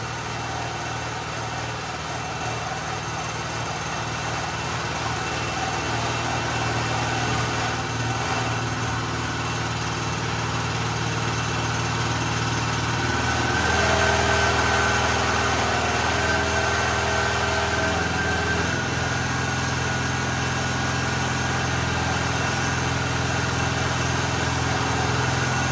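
A neglected small portable generator, sitting over five years and freshly tuned up, runs steadily at about 3,600 RPM, a loud continuous engine drone that shifts pitch midway as the revs settle, close and with no talk.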